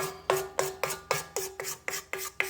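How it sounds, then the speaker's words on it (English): A spatula scrapes cookie dough around the bowl of a Nuwave BRIO air fryer, producing nine rhythmic rasping strokes at an even tempo, close and clear, with a steady low hum underneath and no speech. "we'll go ahead and scrape a little bit"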